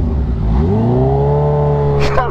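A modified motorcycle engine revs hard and close by, a loud rising roar that holds steady before dropping off, with a voice speaking over it.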